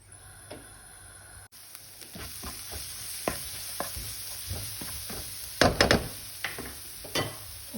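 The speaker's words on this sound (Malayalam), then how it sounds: "നമുക്ക് ഒന്ന് ഇളക്കി കൊടുക്കാം" A spoon stirs a potato snack mixture with coriander leaves in a hot pan, making a series of irregular scrapes and taps over a faint sizzle. The knocks grow louder and cluster together toward the end.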